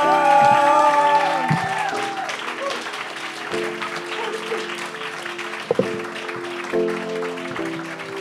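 An Estonian comedy show crowd applauds and cheers as a panel guest is introduced, steady clapping and a few whoops running under a loud musical sting with sustained tones.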